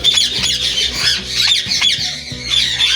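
A female ringneck parrot, unsettled by someone entering her cage, gives a rapid series of loud, harsh, close squawks, several in quick succession over a few seconds.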